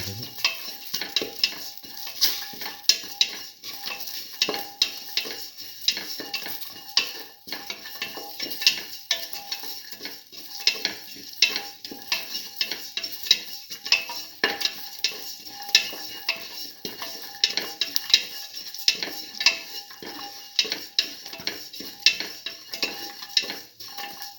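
A black lentil stew with green chillies and salt is stirred and sautéed in a pan. There is a soft, steady sizzle with frequent light scraping and clinking of a utensil against the pan. The sounds are close and continuous, with no talking.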